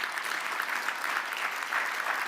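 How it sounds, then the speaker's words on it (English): Steady audience applause filling a hall at an awards ceremony for a European Mobility Week event, dense even clapping throughout, with no talk over it. "You can give him a round of applause as he leaves, please."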